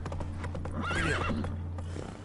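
Horse hooves clip-clopping along with a whinnying neigh in The Witcher 3 game world, steady hoofbeats throughout and a rising, wavering neigh in the middle, close and clear with no talking.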